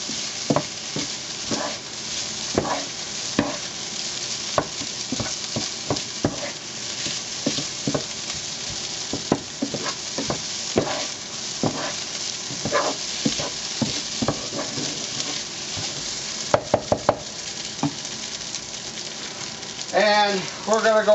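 Shrimp stir fry with rice is tossed and stirred in a hot pan, giving a steady sizzle and repeated scraping clatters of the utensil against the metal, close up with no talking.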